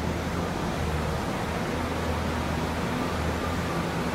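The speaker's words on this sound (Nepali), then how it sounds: "फुङफुङे झरना, ऊ माथि देख्न सक्नुहुन्छ" Fungfunge waterfall in Taplejung, Nepal pours in a steady, dense roar of falling water that stays loud and unbroken throughout, with no voices.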